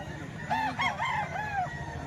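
A henny-feathered rooster gives a single close crow made of several warbling syllables, lasting about a second, over a low background hum.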